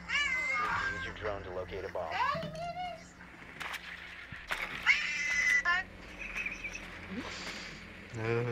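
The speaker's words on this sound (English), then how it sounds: "It was a cat." A cat meows in a few rising, wavering calls near the mic, mixed with people talking over game sounds in a tactical shooter match.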